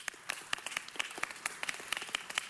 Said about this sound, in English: Give him a big round of applause for that.